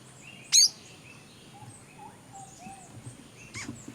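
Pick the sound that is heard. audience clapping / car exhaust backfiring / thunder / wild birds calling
wild birds calling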